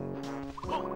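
A bird enemy in the video game Banjo-Tooie lets out a short, harmonic gobbling squawk, brief and fairly quiet, heard alone.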